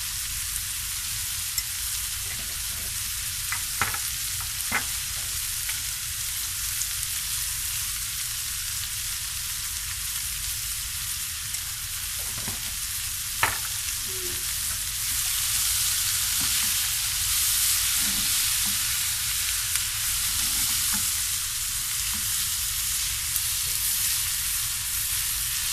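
Black pepper and cumin fry in a pan while macaroni tagines are prepared, giving a steady soft sizzle that runs throughout with a few faint clicks and stirring touches.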